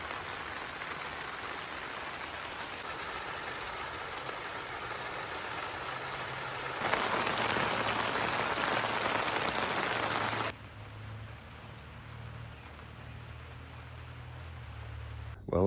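Steady rain patters on a surface during an off-and-on storm, a dense continuous wash that swells louder and heavier midway before easing back to a softer steady fall, with a faint engine hum low beneath.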